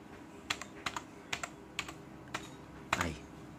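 Keys on a computer keyboard are tapped in a slow, uneven run of about eight distinct clicks, close and fairly quiet, with one slightly heavier press near the end and no talking.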